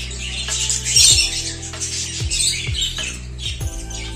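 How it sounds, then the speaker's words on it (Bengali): A budgerigar chick squawks in harsh, close bursts among other small cage birds, with several loud calls over a steady background of chirping. "একটা বাচ্চা নেমেছে বাজচিকার পাখি।"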